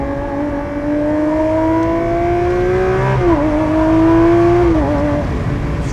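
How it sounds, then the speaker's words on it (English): A 2022 Lamborghini Aventador SVJ Roadster engine heard from inside as it revs and short-shifts, a loud rising tone that dips at each gear change and climbs again, with no one talking. "Short shifted it there, because I think what's going on with me is I'm hearing how loud it gets."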